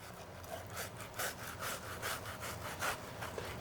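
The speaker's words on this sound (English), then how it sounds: "put it flat, hold it at the end, and move your knife in a jigsaw fashion" A knife sawing the skin off a salmon fillet in a back-and-forth jigsaw motion: soft, rhythmic scraping strokes repeating steadily, close and quiet over a low background hum, with no talking.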